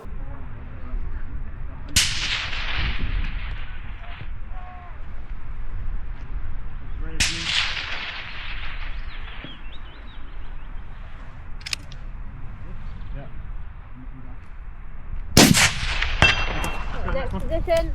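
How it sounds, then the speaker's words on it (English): Rifle shots fired from a tripod at an NRL Hunter precision rifle stage, three sharp loud cracks spaced several seconds apart, each ringing out briefly, over steady outdoor wind noise. "this position was just set up in a tripod, just shot off straight off the tripod"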